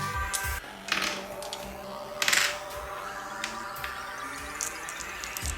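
Dice rolled for a Warhammer tabletop game, one die from each side, clattering in a few short bright bursts on a hard surface against quiet room background.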